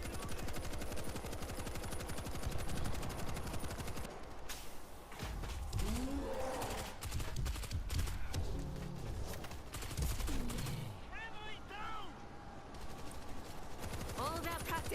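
Rapid turret gunfire in World War Z on insane difficulty, dense continuous bursts with game effects and creature noise, a voice talking over parts of it.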